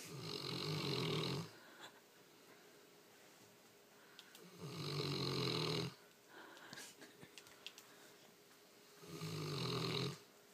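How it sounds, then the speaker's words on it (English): A dog snores while lying with its eyes open, three long rasping breaths coming at a steady rhythm, each a few seconds long, with quiet pauses between them. The snores are close and fairly loud. "How do you snore with your eyes open"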